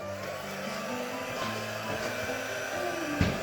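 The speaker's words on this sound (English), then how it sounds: "let's get the heat gun, which I think is down here" Heat gun drying a soft pastel painting, blowing a steady loud whirring hiss up close, with a motor tone that dips briefly near the end.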